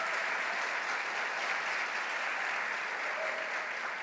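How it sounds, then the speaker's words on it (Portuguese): A church congregation claps together in sustained, dense applause, loud and steady throughout with no pauses. "Então dê uma salva de palmas para o nosso som na classe."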